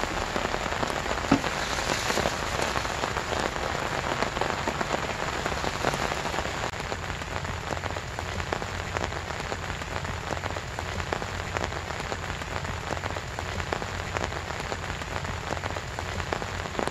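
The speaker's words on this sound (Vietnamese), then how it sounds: "Mưa to quá." Heavy rain pouring down outdoors during a stormy day of fishing, a dense, steady patter and hiss of drops striking surfaces, close and continuous, with no talking.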